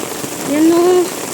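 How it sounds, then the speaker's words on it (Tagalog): Steady heavy rain hissing across the whole clip, with a brief tonal whine rising in the middle. "Sobrang lakas ng ulan."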